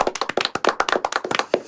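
Applause for the broadcaster MBC and lawmaker Ahn Gyu-baek, a few hands clapping close by in a quick, uneven run of sharp claps lasting under two seconds.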